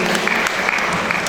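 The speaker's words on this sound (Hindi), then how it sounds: "इसलिए तालियां बजा दो बच्चों के" Applause for children at a Jain religious gathering with monks, a brief, close burst of many hands clapping at a steady, lively pace.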